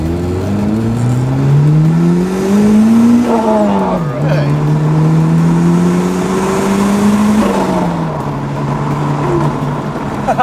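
A Toyota rally car, a GR Yaris or Celica GT-Four ST185, revs hard and accelerates through the gears, its loud engine note climbing, dropping at shifts and climbing again with a close, continuous roar.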